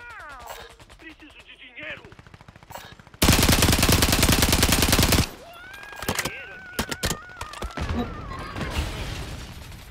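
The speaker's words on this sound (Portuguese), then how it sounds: "Tem gente atirando aqui." Gunfire in a Call of Duty battle royale match, a loud sustained automatic burst at the center flanked by scattered single shots and clatter, with players talking quietly in the background.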